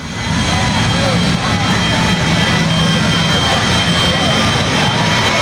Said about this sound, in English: The Tim Chitwood jet truck, you need sunglasses as he goes into turn 4 and into turn 3.